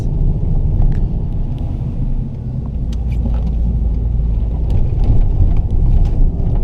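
A small Volkswagen on snow tires driving through snow, giving a steady, close low rumble of engine and tire noise that swells slightly toward the end, with no talking.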